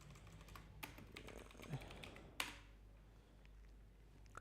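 Close, quiet typing on a computer keyboard: a steady patter of soft key taps with a couple of sharper clicks, heard alone with no voice.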